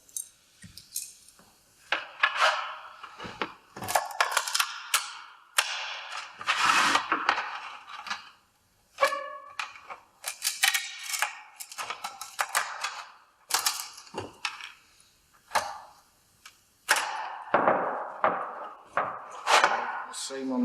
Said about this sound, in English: use tin snips and we cut into this angle to form the mitre at the bottom